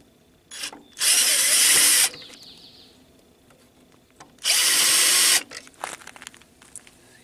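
A power drill backs Torx screws out of a control panel on an Onan generator in two separate whirring bursts of about a second each, with small handling clicks between and after them.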